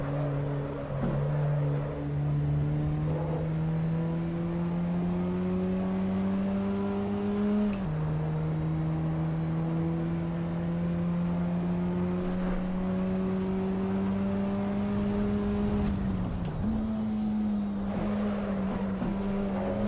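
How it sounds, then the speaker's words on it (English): Race car engine in the Assetto Corsa Evo sim holds a steady, droning tone that climbs gradually through each gear before dropping on the shifts, loud and continuous with no talk over it. "I actually quite like the way they've done the engine sound."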